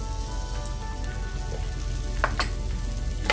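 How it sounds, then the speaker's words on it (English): Onions for spicy pork with green beans frying in oil in a pan, giving a soft, steady sizzle with a couple of faint crackles. "cook the onions a little bit till they're slightly caramelized"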